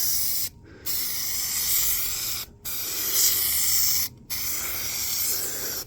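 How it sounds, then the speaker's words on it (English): An aerosol can of headliner adhesive hisses in three long sustained bursts of spray, each cut off by a brief pause, close and fairly soft. "we're gonna take our can, and we're gonna give it just a nice"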